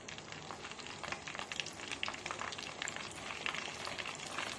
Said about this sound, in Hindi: तो अब हम कर रहे हैं चिकन को दोबारा फ्राई, और देख लीजिए ऑयल कितना अच्छा गर्म है।